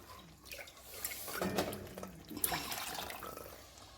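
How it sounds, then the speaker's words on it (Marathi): Water splashes and pours into a metal pot of cooking mutton curry in short bursts, with faint clinks of cookware; no one speaks. "मी पाणी टाकून घेते आम्हाला पाणी असल्याशी भाजी होत नाही"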